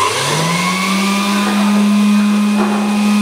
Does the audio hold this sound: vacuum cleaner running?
yes